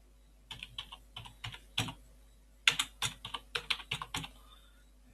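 Fingers typing a git commit message on a computer keyboard, a close, clear series of uneven keystroke clusters with brief pauses between bursts.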